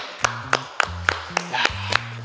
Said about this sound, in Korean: 박수 쳐드려야겠네요.